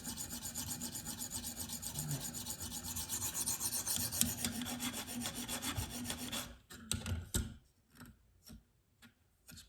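A Spyderco PM2 knife with an S35VN blade is drawn over a KME 140 sharpening stone, giving a steady rasping scrape for about six seconds. After that it breaks into a few short, separate strokes, with no one talking.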